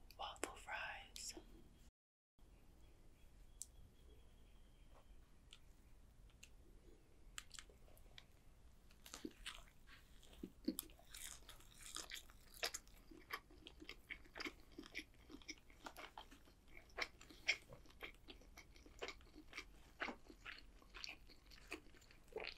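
Crunching and chewing of waffle fries eaten beside vegan brats, close and quiet, with soft irregular bites and mouth sounds throughout and occasional whispering.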